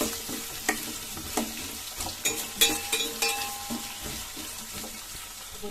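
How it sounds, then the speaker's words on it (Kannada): Onions fry in a pan for masala dosa filling: a soft, constant sizzle broken by regular spatula knocks and scrapes, close up and without speech. "ಈಗ ಈರುಳ್ಳಿ ಫ್ರೈ ಆಗಲಿ. ಈಗ ಕೆಂಪು ಕಲರ್ ಬರೋಗಂಟ ಫ್ರೈ ಆಗಬೇಕು."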